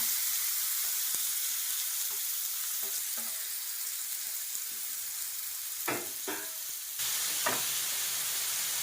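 Cumin seeds and finely chopped onions sizzling in hot oil in a pan, a steady close hiss with a few clinks and scrapes of stirring partway through, no voices.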